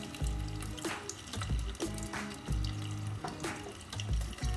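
Water poured onto a pan lid over stuffed capsicum cooking on the stove, splashing in several short bursts with brief pauses, close and fairly loud.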